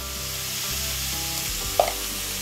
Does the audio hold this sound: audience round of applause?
no